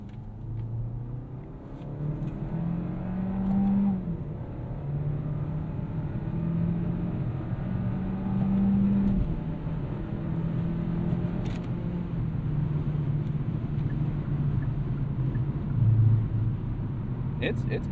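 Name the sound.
2021 Kia K5 LXS AWD accelerating after downshift to second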